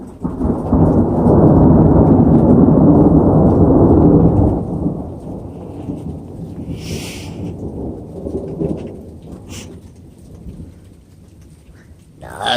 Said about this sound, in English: Now some thunder.